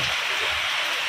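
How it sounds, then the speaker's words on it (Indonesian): Rain falling at night, a steady dense hiss of drops with no pause, fairly loud and close, and no voices. "Isinya malah hujan, teman-teman."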